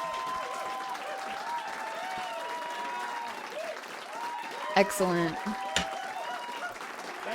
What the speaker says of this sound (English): Queer applause.